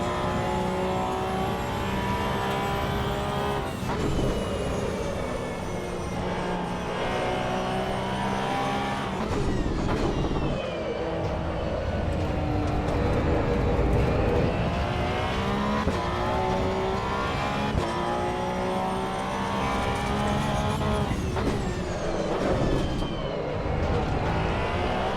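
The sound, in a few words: Porsche GT3 Cup car lapping Oulton Park in Assetto Corsa EVO video game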